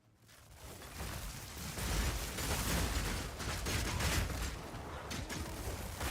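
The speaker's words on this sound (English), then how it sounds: "I can feel more blood, more herald explosions going on." Dense run of explosions and crackling bursts in a dark fantasy action game, loud and continuous for several seconds with overlapping impacts and no speech.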